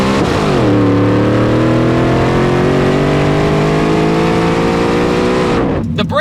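A Coyote-swapped Ford F150 Lightning truck accelerates hard with its tires spinning, the V8 roaring loud and rising steadily in pitch through a long pull before cutting off abruptly.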